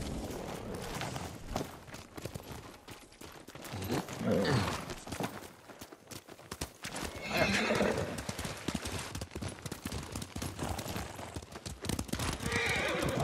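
In the video game Ghost of Tsushima, several horses gallop with rapid clip-clopping hooves, punctuated by loud neighs and whinnies, over a busy, rumbling background.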